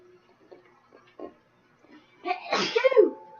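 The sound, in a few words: sneeze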